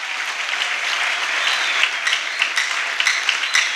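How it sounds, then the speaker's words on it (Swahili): A large crowd at an evangelism conference in Dodoma claps steadily and loudly, a dense wash of applause with some sharper individual claps standing out toward the end. "Makofi mengi kwa Bwana Yesu."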